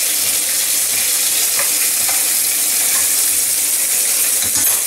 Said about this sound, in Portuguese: E o nosso brandy para caramelizar bem a nossa maçã.